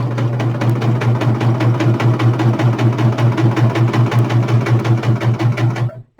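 A serger sewing machine runs at a steady fast pace, its blade trimming fabric, giving a loud close rhythmic whirring hum with rapid regular clatter, alone, before stopping abruptly at the end.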